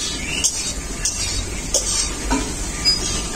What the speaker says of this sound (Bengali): আলুগুলোকে আমি যেহেতু ভালো করেই ভাজবো, তার জন্য ঢাকা দিয়ে দিয়েই ভেজে নিচ্ছি।